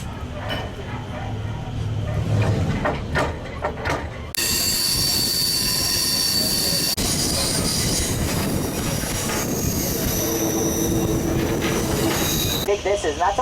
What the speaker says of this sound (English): There's another train coming past.